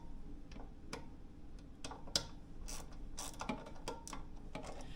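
A 7mm socket wrench loosening the ignition coil bolt on a Briggs LO206 kart engine, giving a series of light metallic ratchet clicks and ticks, quiet and close, with no talking.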